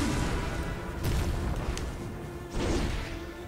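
Booming explosions go off from a boss in the video game Bloodborne, with heavy blasts about a second apart over a dense, rumbling game soundtrack.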